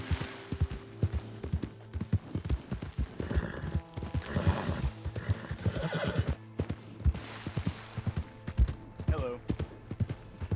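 Horse hooves clip-clopping steadily alongside repeated neighs and whinnies in the Red Dead Redemption 2 video game, close and fairly loud, with a voice briefly heard.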